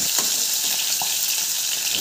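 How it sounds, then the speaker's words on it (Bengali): Chital fish pieces fry in hot mustard oil with a steady, close hiss of sizzling, broken by a few faint clinks and small pops. "সর্ষের তেলটা খুব ভালো মতো গরম হয়ে গেলে এক এক করে মাছের টুকরোগুলো দিয়ে দেব"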